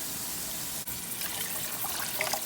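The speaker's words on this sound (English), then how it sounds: "Okay, so now I'm gonna add my water." Water pours steadily from a tap or container into a pot of rice, a continuous gushing splash at close range that briefly breaks and then carries on with no speech.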